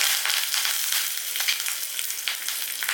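Steady, bright crackling sizzle of curry leaves frying in hot oil, close and continuous with no voices.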